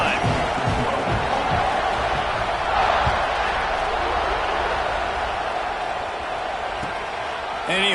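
A roaring stadium crowd cheers steadily throughout a football video game, a dense, sustained wash of noise with no clear breaks, and faint voices are mixed into it.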